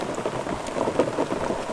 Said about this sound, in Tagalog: Yan o, sobrang lakas talaga ng ulan guys.